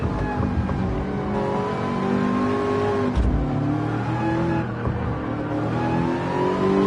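A Ford GT race car in Gran Turismo 7 at the Daytona racetrack, its engine droning loud and steady throughout with shifting pitch as it revs and changes gear, no talk over it.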